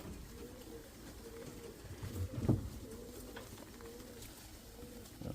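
Pigeons cooing close by in a yard, soft repeated low coos in a steady rhythm over a quiet outdoor background, with a brief louder rustle partway through.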